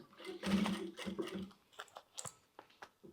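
Sewing machine stitching a seam through synthetic quilted bag fabric and its lining, with a short whirring run broken into uneven bursts and small clicks, close and fairly quiet.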